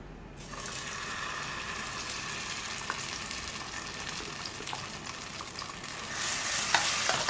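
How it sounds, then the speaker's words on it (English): Jackfruit seed paste fries in ghee in a non-stick pan, giving a steady close sizzle with scattered soft scraping stirs, growing slightly louder toward the end. "Let's add some ghee and fry this paste for some time."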